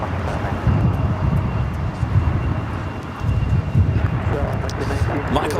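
A United Airlines Boeing 757-200 takes off from Los Angeles International for Newark, its rumbling jet roar swelling and easing in gusts under someone talking, with wind buffeting the microphone.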